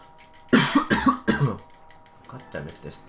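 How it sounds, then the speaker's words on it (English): A few harsh coughs in quick succession near the mic, followed by quieter throaty sounds and a brief mumble, during Burnout 2 gameplay. "this cough's kinda tough on me"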